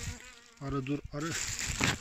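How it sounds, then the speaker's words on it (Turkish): Buzzing bee passes close by, its drone rising and falling over about two seconds with a brief gap, fairly loud against an outdoor background during mushroom foraging among flowers. "Arı dur arı"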